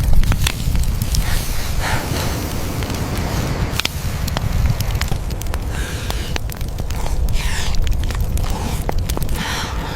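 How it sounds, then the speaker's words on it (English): Campfire crackling on an open shore, with steady wind roar and scattered sharp pops and snaps running continuously over ten seconds at close range. "On the open shore, a fire crackles against the wind"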